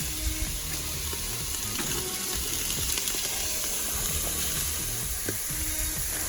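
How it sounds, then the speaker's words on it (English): Pork sausage fries in a Dutch oven with a continuous loud, wet sizzle and scattered pops and crackles throughout. "once I fry up all the pork sausage in the Dutch oven"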